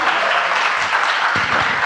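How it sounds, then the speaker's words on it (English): Applause for a banjo player, Banjo Steve, at a live recovery event: steady, dense clapping from a crowd filling the whole moment, with a few lower thumps toward the end. "Let's have a big round of applause for Banjo Steve"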